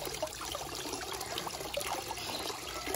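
Water trickles steadily where a sulphur-crested cockatoo drinks at a lake, a close, continuous light splashing and dribbling with no voices.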